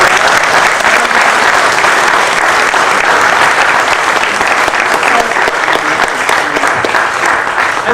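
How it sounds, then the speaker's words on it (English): A crowd gives sustained, loud applause for astronaut Mary Cleave at a morning event at Towson, steady dense clapping filling the whole stretch with no break. "Give her a round of applause."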